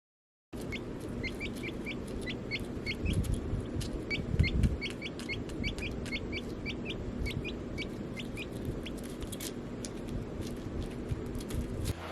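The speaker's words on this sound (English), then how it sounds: "So I'll go show you the Gamble's quail." Gamble's quail in an outdoor enclosure give a rapid series of short, high chirping calls against a steady background hum, with occasional low thumps and rustling nearby, and no voices.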